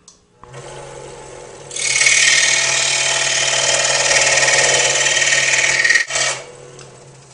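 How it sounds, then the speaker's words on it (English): A power saw cutting a thin strip from a 1/8-inch piece of wood: a motor hum rising into a loud, steady rasping cut for several seconds, then a brief drop and a short final burst before stopping. "I'm going to cut a strip approximately 1/16 of an inch wide."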